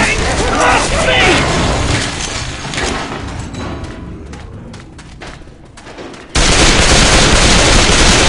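Rapid bursts of video game gunfire fill the opening seconds, then ease into scattered quieter shots before a sudden loud, dense burst resumes near the end, with voices talking over parts of it.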